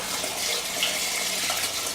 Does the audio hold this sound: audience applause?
no